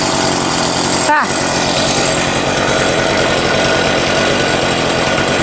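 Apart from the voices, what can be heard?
garden tiller engine starting and idling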